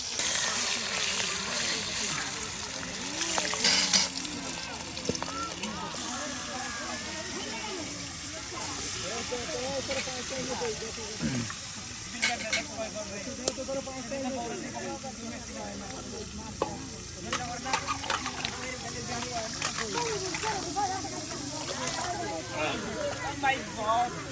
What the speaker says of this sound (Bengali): দেখুন মাছগুলো এখন তেলের সাথে ভেজে নেওয়া হচ্ছে